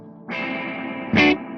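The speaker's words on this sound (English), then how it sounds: "We hear a bit of that drip sound" Guitar through a Tonex spring reverb: a quiet tail swells into a brighter chord wash, then a short splashy burst near the end gives the springy drip, close and moderately loud with no voices.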